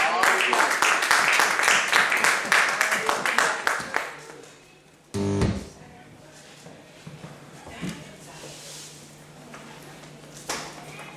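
A church congregation at a wedding service claps and acclaims the Lord, with dense rapid applause for about four seconds, then a sharp knock and quieter room noise with voices.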